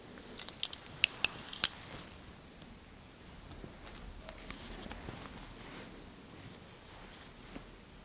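Close, quiet snips of small scissors trimming eyebrows come as a few crisp cuts early on, followed by soft scattered clicks and rustles.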